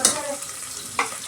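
Onions sizzle in hot oil for a chayote sambar, a steady bright frying hiss with a few short stirring scrapes near the end.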